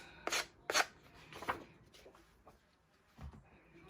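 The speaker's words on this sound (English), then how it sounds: "what works fine for now is just sanding" Several short raspy rubbing strokes, close and fairly quiet, in uneven bursts with pauses between, like hand sanding the edges of paper with abrasive paper.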